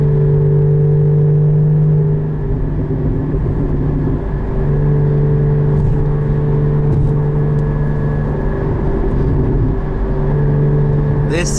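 A loud 2016 Porsche Cayman GT4 engine drones and rises in pitch as it accelerates, a strong low rumble filling the cabin throughout.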